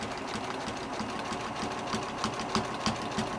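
A machine sewing a satin stitch applique hums steadily at close range, with a dense, continuous motor whir and a faint rhythmic needle patter throughout; no talking.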